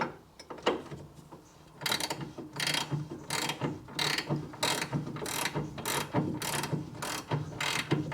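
Ratchet with a deep socket loosening a front stabiliser link nut on a 2010 Kia Sportage 2.0 petrol, giving repeated bursts of close, crisp pawl clicking in a steady rhythm with short pauses between strokes.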